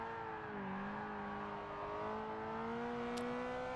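Ferrari F355 V8 on a track lap, downshifting to second: a faint, distant engine drone with a tone that dips and then climbs steadily as revs build.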